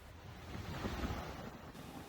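Sandstone Falls, the largest waterfall on the New River in West Virginia's New River Gorge, spans the river with a soft, distant, continuous roar of rushing water mixed with wind.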